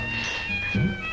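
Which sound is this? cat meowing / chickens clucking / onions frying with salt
cat meowing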